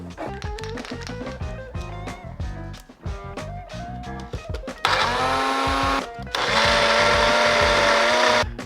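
Short clattering and whirring bursts give way to a loud, steady high-pitched blender whine that cuts off briefly, then roars again close by.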